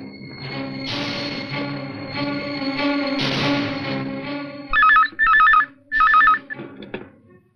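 A telephone bell rings three times in loud, close bursts during a scene from the 2000 Hindi film Laal Joda, following a stretch of dramatic background score.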